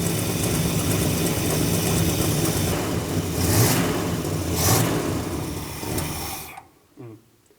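A Dodge Monaco engine runs at a steady, loud fast idle soon after its first start in years, with the choke apparently stuck. The engine drones on with slight surges, then cuts abruptly near the end, leaving only a brief faint knock.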